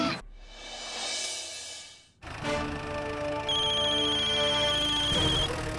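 A hiss gives way to an electronic phone ringtone, a bright repeating melody with a warbling trill that plays continuously and fairly loud, no talking.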